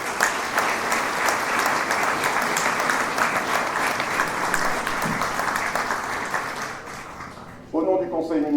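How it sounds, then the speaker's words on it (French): A New Year ceremony audience gives sustained, loud applause with dense clapping throughout, fading near the end as a voice begins speaking. "je vous demanderai de bien vouloir les applaudir pour leur contribution à cette cérémonie"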